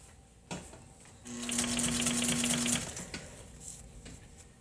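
A sewing machine stitches a box cushion in a short, fast burst of whirring with a steady mechanical hum, set apart by brief handling clicks before and after.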